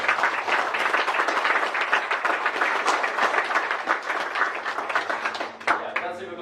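Audience at a SYDJS JavaScript meetup applauding, dense steady clapping for about five seconds that fades as a speaker's voice resumes.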